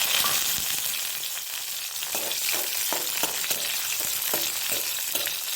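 Garlic and green chillies fry in a pan with a steady bright sizzle, while a utensil scrapes and taps through the oil in an irregular rhythm, close and moderately loud.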